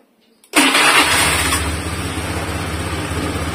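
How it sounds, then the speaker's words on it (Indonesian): A Honda Scoopy scooter with a 130cc bore-up engine fires up after a short starter whir, then settles into a steady, close, loud idle with a rhythmic low putter. "Kita dengerin suara mesinnya dulu."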